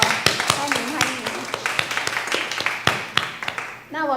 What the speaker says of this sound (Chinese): 我们再次掌声来欢迎新朋友